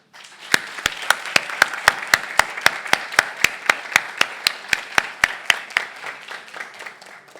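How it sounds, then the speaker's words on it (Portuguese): Audience applause at a book launch session, with loud, crisp claps landing in a steady rhythm of roughly three per second over a softer bed of scattered clapping, fading slightly toward the end. "Pido un gran aplauso para ellas"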